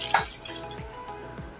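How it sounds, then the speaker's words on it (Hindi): Water poured into a pot of chicken stew with tomatoes and onions gives a few soft, close splashy drips at a steady rhythm, with no talking over it. "पानी ऐड करेंगे"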